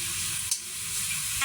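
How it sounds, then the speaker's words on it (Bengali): Sliced onions fry in a pan until golden brown, producing a continuous dense hiss of sizzling oil with one brief dip in the middle and no voices. "পেঁয়াজ বেরেস্তা করে এটা আমি উঠায় রাখবো। একটু বাদামি কালারের মতো করে ভেজে নেব।"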